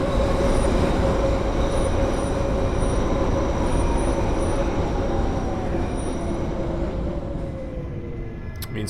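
Sustained train wheel flange squeal as a London Underground Central Line 1992 Stock train takes a sharp curve into a station in the Open.BVE train simulator game; a loud, continuous high screech over steady rolling rumble throughout.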